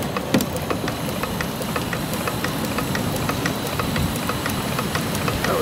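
A Stirling engine on a canoe runs steadily with a fast, even mechanical chuffing and regular ticking beats over a constant broadband hum, close and moderately loud.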